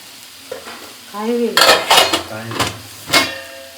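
Mustard seeds popping in hot oil in a home kitchen, with a burst of crackling sizzle and a few sharp pops and utensil clinks, close by, after a brief voice at the start.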